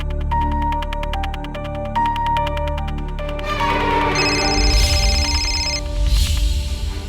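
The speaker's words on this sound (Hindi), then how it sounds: "ये राघव फोन क्यों नहीं उठा रहा है?" A telephone rings with a repeated electronic trill in a dramatized Indian TV crime show scene, steady and fairly loud, while music and dramatic sound effects swell over it.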